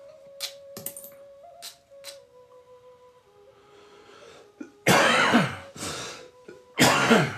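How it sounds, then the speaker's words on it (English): A man coughs in a series of harsh, loud bursts, close to the mic, with a quiet tonal hum and soft clicks between them. "I apologize for any coughing and all that this morning"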